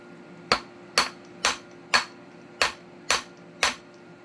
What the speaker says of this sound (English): so you're just gonna tap it.